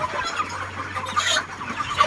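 Chickens cluck steadily inside a poultry farm shed, a dense, close chorus of overlapping calls over a low hum, with no talking.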